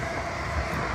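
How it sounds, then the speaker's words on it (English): A train rumbles past at night near Clune Park in Port Glasgow, a steady, dense broadband roar with no distinct breaks, heard outdoors at moderate distance. "That's a train going by, if you can hear that."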